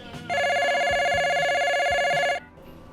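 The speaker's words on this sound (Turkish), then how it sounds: "Bir gün telefon bir çaldı." A telephone rings once in a single long, steady electronic-bell burst of about two seconds, loud and close, with a faint low rumble around it and no talking.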